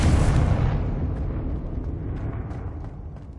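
A Confringo spell explosion in the game Hogwarts Legacy hits with a loud, deep boom that rolls off into a fading rumble over a few seconds.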